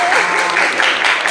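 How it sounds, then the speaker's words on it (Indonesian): A class of secondary school students claps for a classmate, a brief dense burst of applause close by, loud and continuous for the whole moment. "Tepuk tangan untuk Ira, anak-anak"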